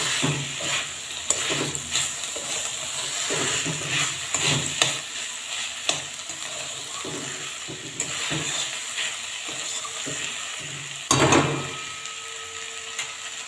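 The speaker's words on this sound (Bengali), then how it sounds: "পোস্তটা একটু ভাজা ভাজা করে নেব।" Spring onion greens and poppy seeds fry in a pan on a gas stove over raised heat, with a continuous sizzle broken by frequent scraping and clacking of a spatula as they are stirred. One louder clatter comes near the end.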